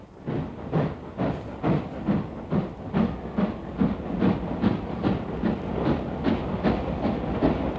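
A train runs along a railway line in India with a steady rhythmic clickety-clack of wheels over rail joints, regular beats repeating under a constant rumble and hiss, with no voices.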